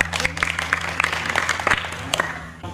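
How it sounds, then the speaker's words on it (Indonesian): A small group of students in a classroom claps for a student group in scattered, uneven bursts, with voices chattering in the background of the room. "Tepuk tangan untuk kelompok 2."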